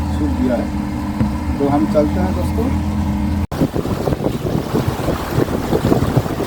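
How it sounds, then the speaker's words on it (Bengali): A speedboat races at high speed along a river near Digha heading toward the sea, a loud steady engine roar mixed with heavy wind buffeting and water rush, a short cut midway, with talk faintly underneath. "স্পিডবোট ছুটে চলল অত্যন্ত দ্রুত গতিতে"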